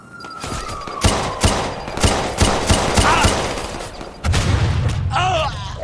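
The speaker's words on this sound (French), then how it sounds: "Oh, mitrailleuse." Machine gun fire in Watch Dogs 2 comes as a series of loud, sharp bursts in uneven rhythm, mixed with other game sounds and a brief electronic effect near the end.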